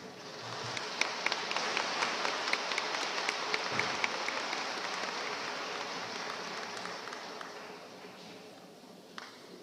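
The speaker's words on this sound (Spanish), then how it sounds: "Un gran aplauso." Audience applause at a religious gathering welcoming a doctor to the stage, a steady dense wash of clapping that holds for most of the stretch at moderate distance before thinning at the end.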